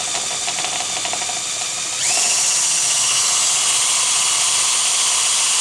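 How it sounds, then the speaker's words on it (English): A power drill bores out 3/16 aluminum rivets holding roof-spring channels, a high whirring spin that surges louder into a harsh, hissing grind as the bit bites, close and without talk. "And drill out these rivets."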